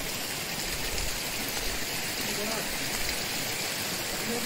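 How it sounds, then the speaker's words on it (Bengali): Mountain waterfall water streaming down toward a lake on the road from Nako to Kaza, a dense steady rushing roar that stays constant throughout. "এই যে উপর থেকে যেসব ঝর্ণার জলগুলো, এগুলো সব যাচ্ছে ওই লেকে"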